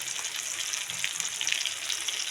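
Chopped tomatoes and ginger paste frying in a pan, a steady bright sizzle with crackling spits throughout, close and fairly loud, with no voices.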